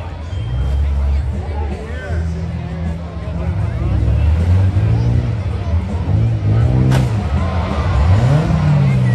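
Demolition derby cars at a fall fair, engines revving and straining up and down in loud, wavering surges, with crowd chatter and an announcer's voice mixed in.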